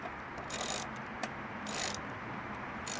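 Ratchet and socket loosening a bolt on a 2004 Dodge Durango SLT during turn signal light replacement, with close, rapid clicking bursts repeating in short strokes and no talk.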